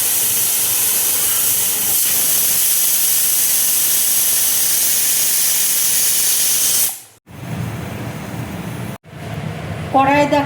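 A pressure cooker cooking moong dal vents steam in a long, loud, steady hissing whistle, briefly cutting out twice near the end.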